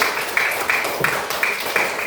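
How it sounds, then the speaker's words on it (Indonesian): Classroom applause for a student during a primary-school religion lesson, a short burst of scattered hand clapping from a small group, with several distinct claps standing out near the microphone. "tepuk tangan untuk Kenny"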